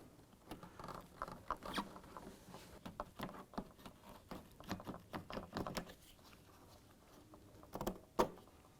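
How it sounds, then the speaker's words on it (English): Plastic lock tab on a 2011-2018 Ram 1500 headlight mounting bracket being worked loose with a pry tool, giving close, irregular clicks, scrapes and plastic creaks in short bursts, ending with a sharper snap near the end. "we want to go ahead and use our pry tool. I'm going to get in here and gently work our lock tab out, pinch the tab"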